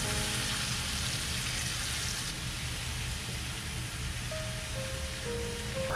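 Tofu and egg mixture frying undisturbed in a pan, a soft continuous hiss like light rain, steady and fairly quiet throughout with a faint tonal whine near the end.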